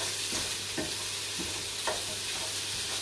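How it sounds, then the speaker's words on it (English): Prawns frying in a pan with garlic and herbs while a prawn carbonara is being made, giving a steady close sizzle with occasional stirring scrapes and no talk. "Let the prawns cook through"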